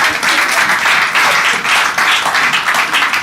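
A church congregation applauds loudly and close by, the clapping dense and continuous with gentle rhythmic swells, uninterrupted by any voices.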